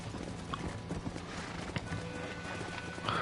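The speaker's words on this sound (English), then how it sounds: "Get on your horse." Galloping horse hooves in the Western video game Red Dead Redemption, a steady clip-clop rhythm running throughout at moderate level beneath game ambience, with a brief whinny-like tone near the end.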